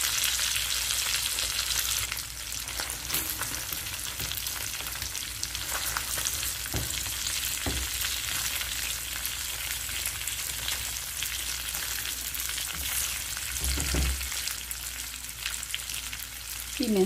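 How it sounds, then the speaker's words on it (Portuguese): Onion and bell pepper frying in a pan for a free-range chicken dish, a steady loud sizzle running throughout with occasional stirring clinks and scrapes, no talking. "Frita bem esses dois ingredientes."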